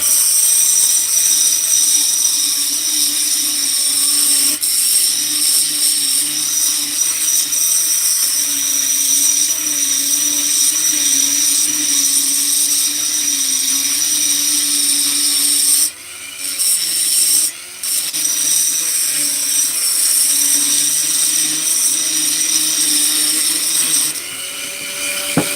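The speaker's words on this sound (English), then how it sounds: "While I'm grinding and stuff, might as well grind the lowers." A power grinder grinding metal parts for a ring job, a loud steady whine that runs almost without pause, with two brief dips in the middle and another near the end.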